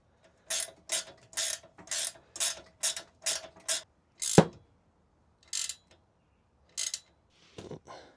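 A ratchet tightens nuts on a Honda CB550 motorcycle, with short bursts of rapid clicking repeated about a dozen times with brief pauses, close and crisp, plus a sharp metallic clank midway.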